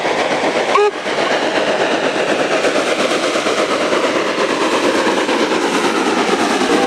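A toy train plays a recorded rail sound, with a brief rising whistle toot near the start followed by a steady, loud rolling clatter of carriages that continues unbroken to the end.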